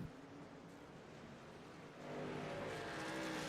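A race truck at Watkins Glen locks a wheel, its engine roaring at a distance while a rough tire skid swells louder and holds through the end.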